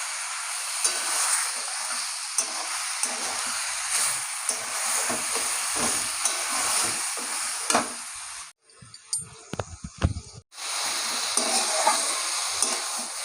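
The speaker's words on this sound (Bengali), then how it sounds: "আর ভালো করে এই যে মশলাটা কষাবো।" A mustard and ginger paste masala with salt is sautéed for a Bengali fish curry, giving a steady close sizzle with repeated stirring scrapes and a brief near-silent pause partway through.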